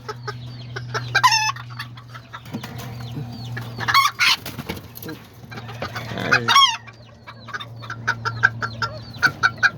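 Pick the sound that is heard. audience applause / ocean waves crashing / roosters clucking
roosters clucking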